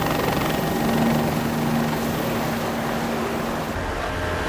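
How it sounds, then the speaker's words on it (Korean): A helicopter heading out on reconnaissance over the open sea near Kiribati, its rotor drone loud and steady throughout, with a faint tonal whine running under the roar. "헬기가 먼저 정찰을 떠나고"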